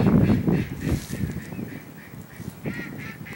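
Ducks quack and honk in the Might and Magic VI video game, a few short calls over a busy ambient background, fairly close and moderately loud, with no talking.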